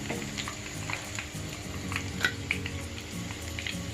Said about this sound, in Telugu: కాకపోతే 2 నిమిషాలు నెమ్మదిగా వేయించుకోవాలి లో ఫ్లేమ్లో ఉంచేసి